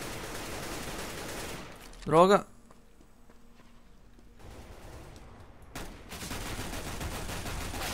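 A Tec-9 pistol fires in Counter-Strike: Global Offensive during team deathmatch on the Aztec map. It is one sharp, loud report around two seconds in, over low game ambience, and someone speaks briefly.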